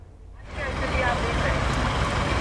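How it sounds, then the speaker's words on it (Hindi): Tractor engine on a flooded road in Bengaluru, a loud, steady rumble that starts after about half a second and keeps going, mixed with broad traffic and water noise. "ठीक हमारे पीछे देखिए ट्रैक्टर की आवाज़ आ रही है।"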